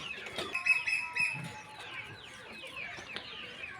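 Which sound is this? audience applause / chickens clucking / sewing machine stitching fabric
chickens clucking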